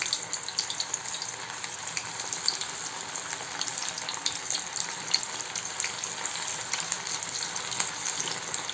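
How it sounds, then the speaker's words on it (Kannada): Baby corn pieces for a Manchurian deep fry in hot oil, giving a close, steady crackling sizzle dotted with sharp pops and bubbling that continues evenly without any talking. "ಇದನ್ನು ನಾವೀಗ ಡೀಪ್ ಫ್ರೈ ಮಾಡ್ಕೊಳ್ಳೋಣ"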